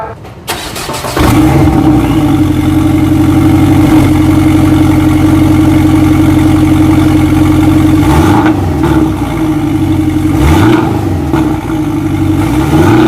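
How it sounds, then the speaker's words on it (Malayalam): A Porsche 718 Boxster starts up and settles into a steady, loud exhaust idle close by, with a couple of brief revs blipping the note toward the end; no one speaks. "എക്സോസ്റ്റ് സൗണ്ട് വെച്ച് നമുക്ക് കേട്ട് നോക്കാം"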